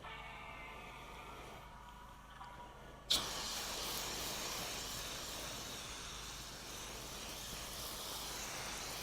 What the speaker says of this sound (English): It's sizzling up, turning white.